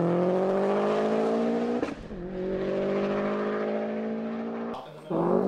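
Trombone imitating a Subaru WRX engine, played close and loud as sustained droning notes with rising revs, a brief break where the pitch dips and shifts, then a fresh burst at the end.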